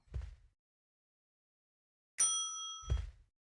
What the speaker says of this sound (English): maybe we can ring the bell and get some assistance on that